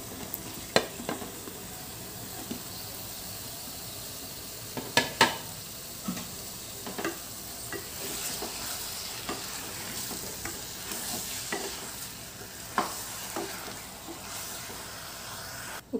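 Pieces of mutton for an Andhra-style curry sizzle steadily in a hot pan, with periodic scraping and clinking as a spoon stirs them, close and continuous without speech.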